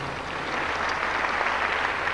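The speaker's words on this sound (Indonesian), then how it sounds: "Tepuk tangan untuk firman Tuhan ini" Brief burst of steady applause from a church congregation, an even wash of many hands clapping from start to finish.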